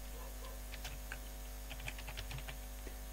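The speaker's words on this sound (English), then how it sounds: "let me just type here" Keys clatter on a computer keyboard in scattered quick bursts, faint and close over a constant low electrical hum.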